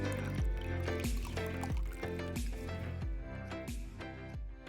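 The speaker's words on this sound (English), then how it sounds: "I'll gather up the edges and wring out as much liquid from the tofu as I can" Tofu wrapped in a cotton cloth is wrung out by hand, giving a continuous wet squishing and trickling of liquid, close and fairly loud. A steady musical backing plays throughout.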